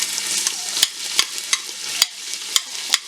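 Chopped onion, about one large onion, frying in hot oil in a home kitchen as it turns golden brown; a steady bright sizzle runs throughout, broken by several sharp clinks of a spoon stirring against the pan, with no talking.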